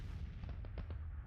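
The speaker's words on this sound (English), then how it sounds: "I forgot to turn off the bombardment from the one battery" Civil War artillery bombardment in the strategy game Grand Tactician: The Civil War, a few faint, distant booms in a quick irregular sequence over a steady low rumble.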